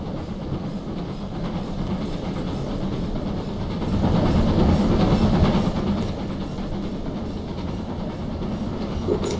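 Two T11 steam locomotives double-heading a train roll along in a Garry's Mod railway game, a continuous rumbling, clattering run that swells louder as the train passes close, then eases slightly, with no voices.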